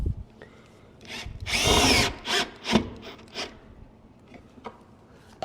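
A cordless drill drives 1¼-inch coarse-thread pocket screws into a hardwood cabinet box, giving several short whirring bursts, one longer run, then quieter gaps, all close and without speech.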